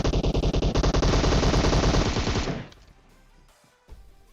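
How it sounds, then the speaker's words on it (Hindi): Rapid automatic gunfire from a PUBG Mobile match rattles in loud, dense bursts for over two seconds, then cuts off, leaving quiet game ambience and a faint thud near the end. "हमारी चलती गाड़ी पे गोली पेलता है"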